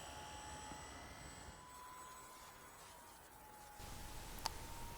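An eSky Airwolf fixed-pitch belt-drive R/C helicopter hovers, giving a steady, fairly faint motor whine and rotor drone throughout, with a slight lift in level near the end and one brief tick.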